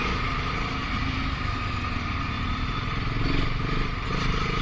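BSA Gold Star 650 single-cylinder motorcycle engine rumbling steadily during a test ride, a loud, continuous close-up drone with no talking over it.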